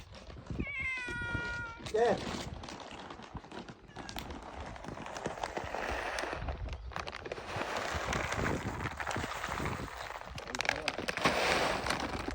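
A stray cat meows several times in a short rising series early on, then people talk and call over steady background noise in cold weather.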